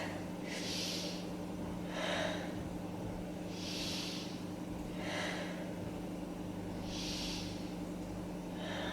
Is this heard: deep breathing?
yes